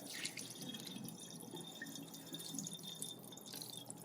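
Rinse water drains from a batch of soaked seeds in a steady, faint trickling wash with light splashy texture, continuous and unbroken, with no talking.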